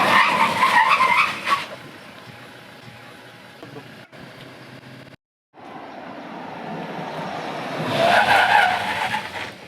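A Skoda Kodiaq or Toyota Fortuner SUV brakes hard with the pedal fully pressed, tires squealing loudly near the start and again at the end around a quieter stretch of road rumble, with no talking.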